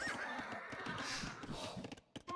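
Horses whinny in an Age of Empires 2 Red Bull Wololo match as cavalry units fall in battle, a dense clash of game sounds with repeated neighs and hoof clatter, loud and continuous throughout.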